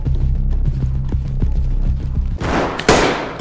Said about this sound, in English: Did you shoot me? I did.